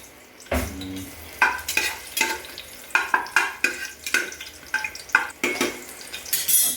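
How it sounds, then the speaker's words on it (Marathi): Bay leaf and garlic hit hot oil for a tempering. A sudden sizzle bursts in, followed by a rapid series of loud spatula scrapes and clatters against the pan over continuous frying hiss, close and without voices. "तेजपत्ता टाकला आहे. आता लसूण टाकलं."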